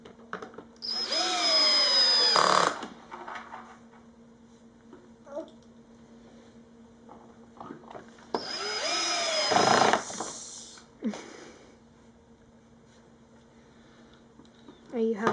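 A power screwdriver drives screws into a tricycle in two long whirring bursts of about two seconds each, rising in pitch as the screws seat, with quieter handling clicks and soft voices between them.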